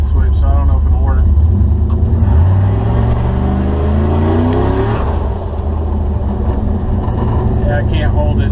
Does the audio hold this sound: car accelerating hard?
yes